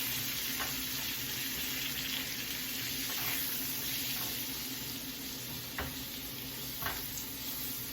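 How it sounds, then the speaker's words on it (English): Tomatoes sautéing in a pan over a stovetop flame give off a soft, steady sizzle, with a few faint scrapes of stirring rising now and then above the quiet hiss. "Saute the tomatoes. Give this a little stir."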